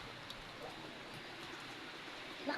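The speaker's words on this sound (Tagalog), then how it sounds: "umuulan na guys" Rain falls outdoors over a village beside a river, a steady, even hiss of drops with no clear break, moderately faint and continuous, with a slight louder patter near the end.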